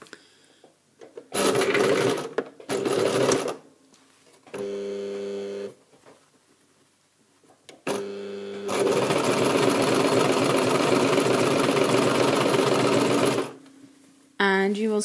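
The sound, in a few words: sewing machine stitching around a tunic armhole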